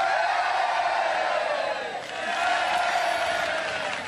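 A large crowd of about 500 young people seated on grass at an outdoor youth camp cheers and claps on cue, making a continuous, roaring wash of voices and clapping at steady loudness.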